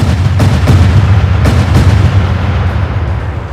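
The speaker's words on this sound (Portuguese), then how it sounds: "os caças começam um ataque em conjunto, mas as armas não surtem efeito" Animated fighter jets fire their weapons together at a shielded fortress, a dense roar of rapid booms and blasts with sharp bursts near the start, loud and sustained over a low rumble.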